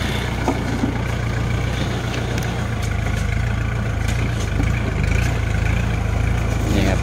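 A tractor engine runs in a rice field at harvest time, a steady close-up drone with a heavy low rumble. It continues unbroken for the whole stretch, with faint scattered rattles on top.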